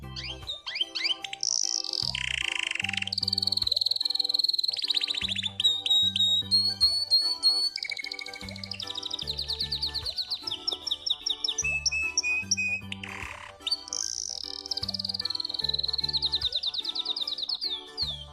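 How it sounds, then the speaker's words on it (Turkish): A canary sings a bright, rapid series of trills, chirps and whistled phrases, loud and close, in a continuous varied song over a regular low rhythmic pulse. "Kanarya. Canary."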